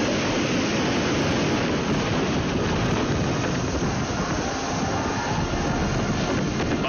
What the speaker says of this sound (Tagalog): Yung direksyon ng hangin dito talagang paikot-ikot.